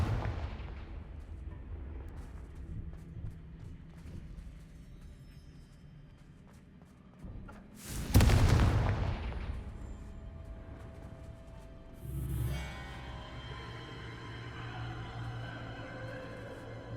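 Confringo spell blast in Hogwarts Legacy, a sudden loud fiery burst about halfway through that booms and fades over a second, followed later by a smaller crackling impact, with quiet ambient game sound around it.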